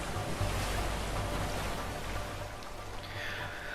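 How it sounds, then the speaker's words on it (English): A waterfall in the video game A Way Out roars as a dense, steady rush of falling water, loud and continuous with no voices. "Waterfall! Waterfall!"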